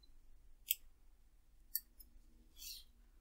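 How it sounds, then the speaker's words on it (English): Scissors snipping through ribbon for a small embroidered bag: two sharp close snips about a second apart, then a softer, longer rasping cut, each short and isolated against a quiet room. "So I'm going to cut myself 2 lengths the same,"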